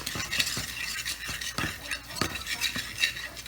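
A butter and flour roux being stirred, probably in a pot. A utensil scrapes and clinks against the pan in quick irregular strokes, close and fairly quiet, with a faint sizzle beneath and no voices.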